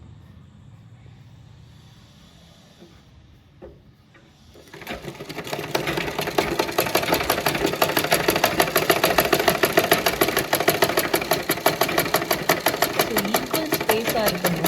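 A sewing machine stitches a handkerchief, starting after a quiet moment with a short word spoken and then running in a loud, steady, fast mechanical whir with a rapid needle rhythm.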